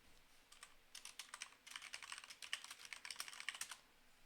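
Fingers tap quickly on a computer keyboard, a close but quiet run of crisp, irregular clicks in short bursts with brief pauses, no voice over it.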